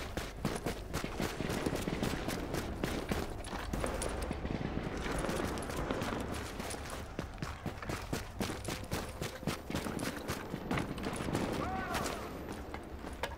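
Rapid bursts of video game gunfire crackle steadily throughout, dense and continuous, with no voices over it.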